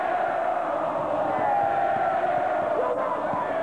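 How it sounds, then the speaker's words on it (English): A college basketball arena crowd at a 1991 East Tennessee State versus Appalachian State game chants in unison, a loud sustained roar of many voices with a rhythmic taunting call. "Crowd saying air ball"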